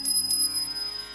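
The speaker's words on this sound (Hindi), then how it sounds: "जो घंटी बंधी थी ना, वो घंटी बजने लगती है" A small bell gives two quick strikes, leaving a thin, high ringing tone that hangs on softly; it is fairly faint and heard alone with no voices.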